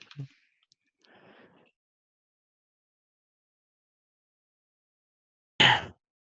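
A computer mouse clicks sparsely in a quiet room during VPN setup: a couple of faint clicks early on, then one sharp, louder click after a long silence.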